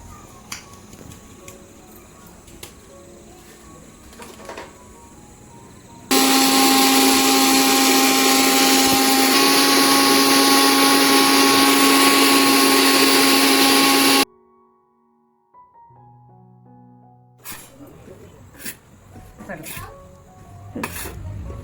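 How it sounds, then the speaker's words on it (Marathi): A mixer grinder roars loudly and steadily grinding moringa powder for several seconds, then cuts off abruptly into near silence before faint clatter resumes. "त्याला परत आपण एकदा अजून काढून घेणार आहोत मिक्सर मध्ये."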